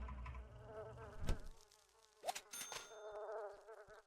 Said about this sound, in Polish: A Dlaczego tu muchy nam latają?